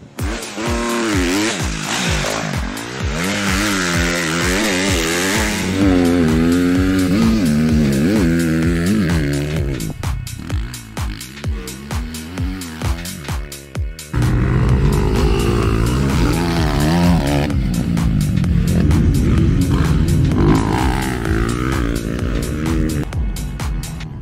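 Motocross motorcycles racing at the 2023 PNR MX event in Pointe Indienne, engines revving and whining through gear changes as bikes pass close by, loud and continuous, with a dip before the roar builds again.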